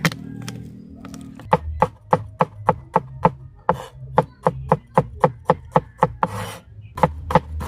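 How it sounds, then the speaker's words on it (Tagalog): Garlic, onion, ginger and chilies being chopped with a knife on a wooden board, a steady run of about twenty sharp, close knocks, mostly evenly paced with short pauses. "Ito naman panggisa yung ating hihiwain."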